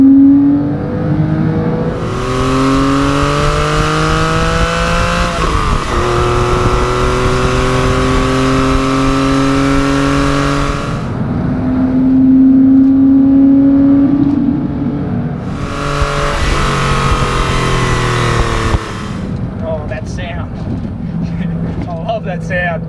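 Porsche 996 engine and exhaust revving above 5,000 RPM, a loud rising wail that climbs through the gears in two long pulls separated by shifts, heard from inside the car and then settling to a lower drone.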